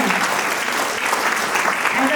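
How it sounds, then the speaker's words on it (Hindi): Strong, continuous applause from the audience at a play school annual day event, dense and loud throughout, with voices mixed faintly into the crowd noise. "तालियां जरा जोर से बजनी चाहिए।"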